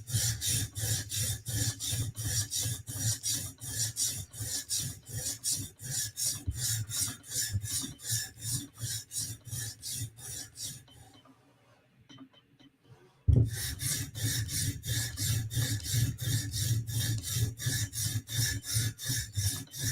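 A knife being sharpened on sharpening stones with a light touch on big bevels, steady rhythmic rasping strokes close up, a pause of about two seconds, then the strokes resume.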